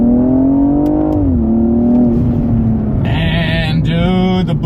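A turbocharged BMW 235i launches hard on launch control, and its engine note climbs steadily in a loud, close, rising whine through a gear change. A higher turbo whir and whistle layer on top near the end.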